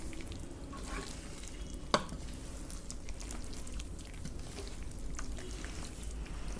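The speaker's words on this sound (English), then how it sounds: "Okay, after this let's mix this. Thoroughly we're gonna mix it all through." Mutton biryani being stirred and mixed with chutney in a pot, a soft continuous scraping and sizzling texture with a single sharp clank of the spoon near the start.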